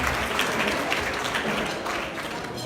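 An audience at a Seudat Hodaya family celebration gives sustained, dense applause, steady and fairly loud throughout with a faint voice or two underneath.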